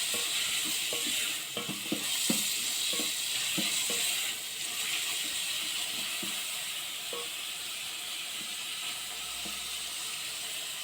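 Spaghetti ingredients with garlic being stirred in a pan, a steady frying hiss under repeated scraping and clicking strokes of a utensil, busier early and then settling into a soft continuous sizzle, close and without voices.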